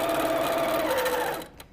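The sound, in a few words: sewing machine sewing binding onto a quilt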